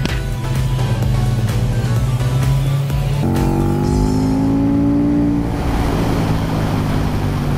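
A KTM Superduke and an Aprilia Tuono rev hard on a winding mountain road in Spain, engine notes climbing and sweeping in pitch, loud and close throughout.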